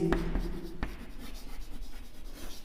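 Chalk or marker writes on a board during a physics lecture on mutual induction of coaxial solenoids, giving short scratchy strokes and taps up close with no speech.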